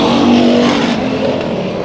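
Hobby Stock race cars roaring around the Bakersfield Speedway track during a heat race, loud sustained engine drone close by, steady and without talk.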